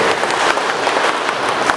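Applause fills a village council meeting, a dense steady wash of clapping from a gathered crowd, loud and close, lasting briefly without pause.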